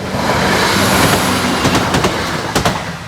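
A train hauled by a class 57 locomotive rushes past loudly and close at a level crossing, a continuous roar of wheels and rails with rhythmic clacking toward the end.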